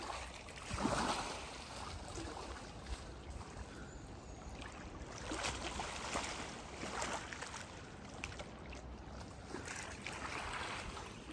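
Waves crash and wash up along a shore near a beached kayak, steady broadband surf with rolling swells surging every few seconds.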